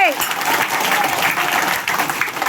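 A school prayer-assembly crowd claps steadily and densely throughout, with a voice briefly audible at the start over the applause.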